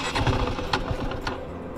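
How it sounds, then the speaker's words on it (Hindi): A KTM RC 390 BS6 motorcycle running out of fuel, its engine sputtering in uneven bursts before fading toward a stall, close and fairly loud. "देख रहे हो बाइक यहाँ पे ही बंद हो रही है, मतलब टोटल खाली हो चुका है"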